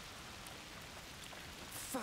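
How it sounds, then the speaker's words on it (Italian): Heavy rain pours steadily in the video game A Plague Tale: Requiem, a dense even hiss with a brighter splash near the end, no voices over it. "Piove a dirotto"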